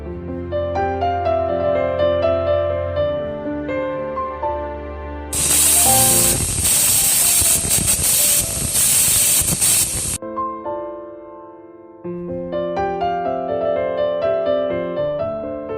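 A pressure cooker of mutton biryani with coriander and mint lets off steam: a loud, high hissing whistle bursts out for about five seconds, cutting into a steady musical backdrop that resumes afterward.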